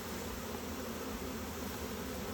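A honeybee swarm moves into a nuc box hive, giving a close, dense, unbroken buzzing drone that stays steady from start to finish.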